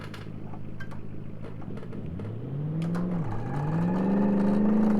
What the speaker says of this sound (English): Heavy wheel spin off the line there.